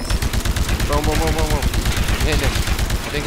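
A heavy cannon firing in the Titanfall video game, heard as rapid, repeated booming bursts in a dense, continuous barrage, with a voice briefly audible over the gunfire.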